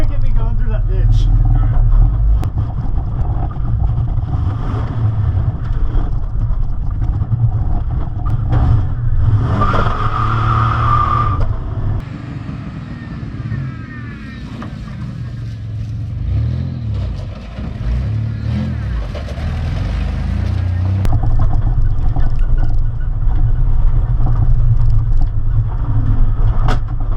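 A rally Camaro drives through a ditch, its engine a deep continuous rumble that swells and revs midway, heard from close by with heavy low-end drone throughout.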